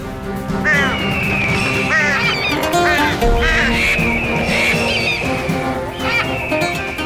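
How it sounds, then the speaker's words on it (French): A flock of birds gathers and calls in a dense, continuous chorus of quacking and honking, loud and close throughout, with overlapping voices like ducks and geese. "Pourquoi les oiseaux se rassemblent-ils de ce côté?"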